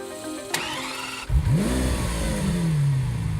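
Lamborghini Centenario's naturally aspirated 6.5-liter V12, mounted behind the cabin, cranks and fires into a loud bark, then revs up and settles while the pitch sweeps upward again, close and alone.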